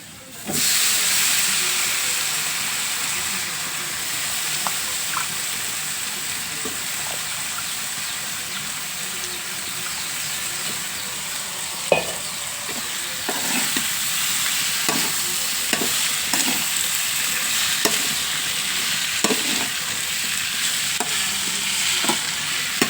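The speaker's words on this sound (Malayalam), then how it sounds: "ഇനി നമുക്ക് ഇതിലേക്ക് കോവക്ക നമ്മൾ എടുത്തു വെച്ച കോവക്ക അങ്ങനെ ഇട്ട് കൊടുക്കുക" Ivy gourd (kovakka) drops into a hot pan and fries with a strong, continuous sizzle and hiss, while a spoon stirs and scrapes with scattered taps against the pan.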